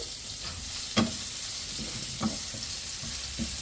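Ginger, garlic and onion sautéing in a frying pan with reduced oil, giving a steady soft sizzle broken by a few louder stirring scrapes and clacks, close up with no talk.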